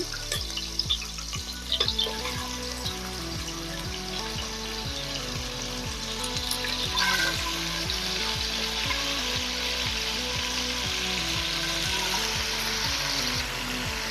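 Beef and chopped onion frying in a pan for a beef curry, giving a steady loud sizzle with repeated rhythmic stirring scrapes across the whole stretch, and no talking.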